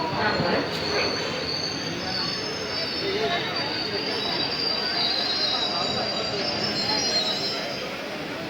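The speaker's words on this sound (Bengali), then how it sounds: "এখন আমরা আস্তে আস্তে আমাদের ট্রেন বর্ধমান জংশন ছেড়ে বেরিয়ে যাচ্ছে" Ganadevata Express, train no. 13017, pulling slowly out of Bardhaman Junction, with a loud, steady rumble and continuous metallic wheel squeal that fill the whole stretch without a break.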